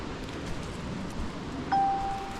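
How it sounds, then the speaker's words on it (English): A phone notification chime sounds once, a clear steady tone ringing out and fading over the steady background hiss and wind of an outdoor autumn hike at Fall Creek Falls. "Sorry about the phone notifications."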